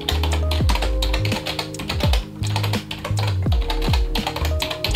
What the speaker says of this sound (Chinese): 整体下来，我很喜欢它打字的手感。